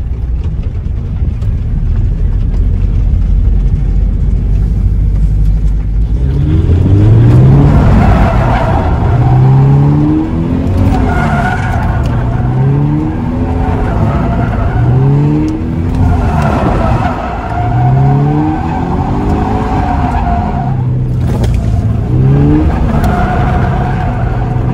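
A Toyota GT86 drifts through a figure-8, its engine revving up and down in repeated sweeping surges while tyres skid and squeal loudly and steadily throughout.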